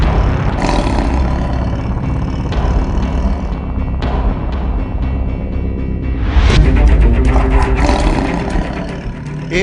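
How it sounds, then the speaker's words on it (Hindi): A tiger of about 300 kilograms gives a loud, sustained roar that rumbles low and rough through the whole stretch and swells louder in the final few seconds. "एक तरफ करीब 300 किलो का खतरनाक जानवर बाघ था, जिसकी दहाड़ सुनकर ही पसीने छूट जाते हैं"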